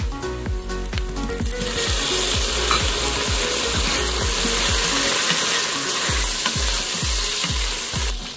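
Chopped onions and tomatoes sizzle in an Instant Pot while being sautéed for goat biryani. A loud, steady frying hiss runs throughout, with evenly spaced stirring knocks and scrapes and no talking.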